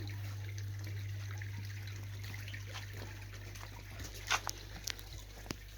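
Water trickling steadily through a koi pond bog filter planted for filtration, a soft continuous wash with a few brief louder splashes near the end.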